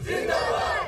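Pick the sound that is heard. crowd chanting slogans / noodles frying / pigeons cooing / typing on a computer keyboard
crowd chanting slogans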